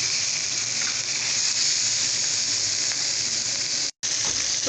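A lemon parsley marinated turkey deep frying in hot oil makes a continuous loud hissing sizzle that stays steady, broken by a brief dropout near the end.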